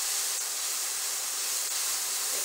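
Garlic, ginger and onions sauté in a hot pan with a steady, even sizzling hiss that holds constant throughout, with no talking over it.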